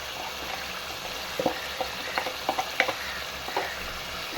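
Spices with turmeric frying for aloo gobi, a steady soft sizzle with a few stirring clinks and scrapes of a spoon in the pan, close by and no talking.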